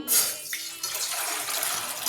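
Water is poured from a pot into a cooking vessel for moong dal soup, a short splashing gush up close that fades into a softer trickle.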